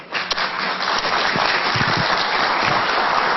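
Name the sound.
audience applause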